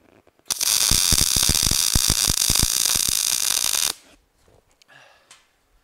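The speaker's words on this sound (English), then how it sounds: "Just weld in this seam right here." Welding a seam on a steel headache rack where the vertical cross member meets the bottom plate gives a loud, steady crackling buzz lasting about three and a half seconds, then stops, leaving near silence.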